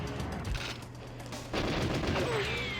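Pistol fire in the Nintendo 64 game GoldenEye 007 sounds as quick bursts of repeated shots with booming hits, loud in a busy game mix, with people talking over the action.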